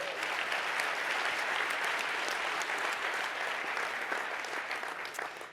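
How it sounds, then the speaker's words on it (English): An audience claps after a keynote at a sales summit, a dense, even wash of applause that holds steady throughout and fades slightly at the end, with no talk over it. "Give yourselves a round of applause."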